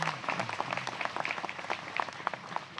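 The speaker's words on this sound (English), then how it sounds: "He deserves a round of applause, too." An audience gives a round of applause for Representative Mark Keller, a quiet, scattered patter of claps, fairly distant, with faint voices mixed in.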